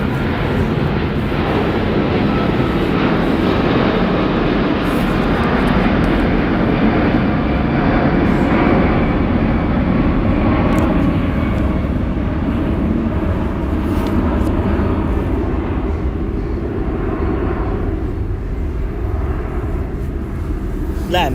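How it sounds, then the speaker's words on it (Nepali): An airplane flies overhead, producing a loud, steady engine roar that fills the whole stretch without letting up. "प्लेन उड्यो"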